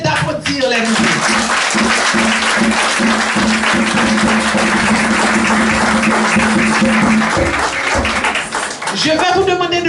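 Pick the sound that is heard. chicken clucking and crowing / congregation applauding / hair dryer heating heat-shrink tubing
congregation applauding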